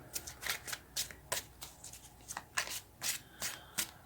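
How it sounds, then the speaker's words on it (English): Tarot cards are shuffled up close in quick, repeated riffling bursts, a crisp papery flutter coming in an uneven rhythm. "I keep shuffling until it kind of straightens out a little bit, and then take the card."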